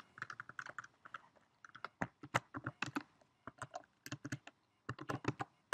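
Typing on a computer keyboard, close clusters of soft key taps in irregular bursts with short pauses between them, no voices.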